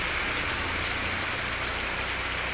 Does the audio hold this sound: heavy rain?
yes